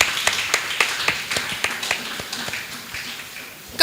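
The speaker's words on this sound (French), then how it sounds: "Merci d'applaudir encore une fois pour nos panélistes et nos éminents animateurs." Scattered, uneven clapping from a panel audience at a Bénin Excellence event on educating disabled children: a steady patter of sharp hand claps, moderately close, with no talking.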